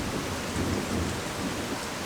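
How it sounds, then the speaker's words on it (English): Booming thunder rolls through a heavy rainstorm, a dense, steady roar of rain and deep rumbling that fills the whole stretch without pause or voices. "the sound of the booming thunder"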